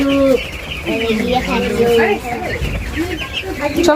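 Young broiler chickens cluck and chatter nearby in a loud, continuous flock, with overlapping calls throughout and muffled voices in the background.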